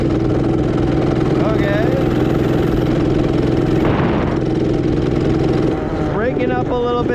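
An Axis M200 minibike fitted with a 212cc engine runs loud and close, a steady rough mechanical drone with a slightly breaking-up top end, while someone speaks briefly over it.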